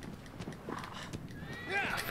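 Hooves of a horse in the video game Shadow of the Colossus clop in an uneven rhythm, then the horse whinnies near the end, with faint background noise under it.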